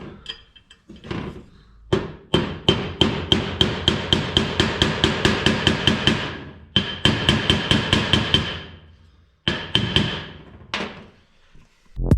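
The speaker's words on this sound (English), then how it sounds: "now I want to try and press in a Torx head like this and see if I can open it after" Repeated hammer blows drive a Torx bit into a screw head on an Indian Prince engine case, a steady run of sharp metallic strikes in quick rhythm with short pauses between bursts, loud and close with no talk.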